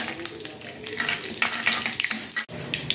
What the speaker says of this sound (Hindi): 2 तेज पत्ता और ये 5 लौंग है और 10 काली मिर्च है, इसको डाल देंगे। इन सबको हम फ्राई कर लेंगे।